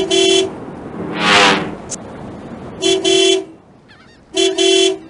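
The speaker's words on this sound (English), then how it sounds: "There's a car horn." Electronic car horn honks from the PC game Clifford Musical Memory Games sound in short repeated pairs, loud and close, separated by pauses with a brief whooshing sound between them.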